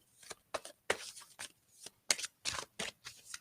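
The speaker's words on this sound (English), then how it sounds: "Brittany, I'm going to shuffle these cards for you really quick." Oracle cards being shuffled by hand in a series of crisp riffling bursts, about ten quick flutters with short pauses between them, close and clear with no talking.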